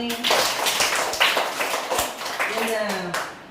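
Schoolchildren clap together in a classroom during a Kannada alphabet action song, uneven bursts of claps mixed with children's voices talking over them.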